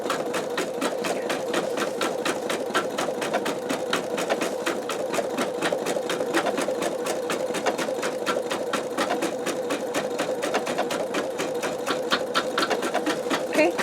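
An embroidery machine fitted with a MagnaHoop magnetic hoop stitches continuously, giving a fast, even mechanical rattle of needle strokes that stays close and steady for nearly fourteen seconds.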